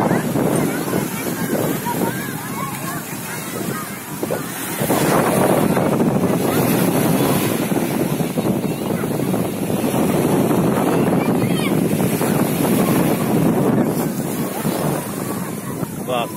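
Wind rushes across the microphone while river waves churn at Majunga, Africa, a loud, dense, unbroken roar that grows stronger after a quieter opening few seconds.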